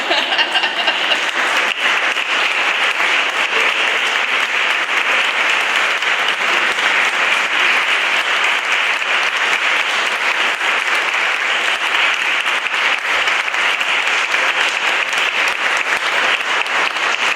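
Loud, unbroken applause from a concert audience in San Lorenzo Isontino, many hands clapping in a thick, steady roar that holds at one level throughout.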